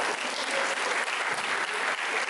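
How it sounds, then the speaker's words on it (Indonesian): Dense, sustained applause from a large crowd of students and staff at an Islamic school inauguration ceremony for junior and senior high, loud and continuous clapping filling the hall with no pauses. "Tepuk tangan bagi kita semua."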